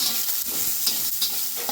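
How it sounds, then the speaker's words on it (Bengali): Cinnamon, bay leaf and chopped onion sizzling in a little oil, a bright continuous hiss with brief popping spurts, close and fairly loud, with no voices. "একটু দারুচিনি সামান্য, আর একটু তেজপাতা দিয়ে দিলাম, দিয়ে একটু পেঁয়াজ কুচি দেবো সামান্য"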